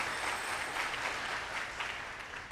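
A ceremony audience applauds at an awards induction, a dense, steady wash of many hands clapping filling the whole stretch without a break.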